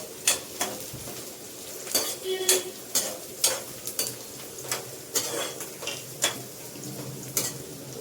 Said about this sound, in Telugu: లైట్ బ్రౌన్ కలర్ వచ్చేంత వరకు ఏగనివ్వాలి ఆయిల్లోనే.